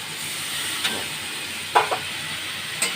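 Spices with salt, turmeric, Kashmiri chili powder and a splash of water sauté in a pan for an eggplant and hilsa curry. A steady soft sizzle and hiss runs throughout, broken by a few small pops.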